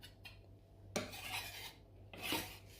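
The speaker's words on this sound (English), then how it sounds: "grating some onion." Onion rubbed against a grater for meatballs, two raspy strokes with a few lighter scrapes before them, close and fairly quiet with no voices.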